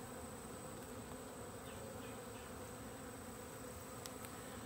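Honeybees drone in a steady, dense buzz inside an open hive infested with wax moth larvae and hive beetles, a soft continuous hum close by with no one speaking.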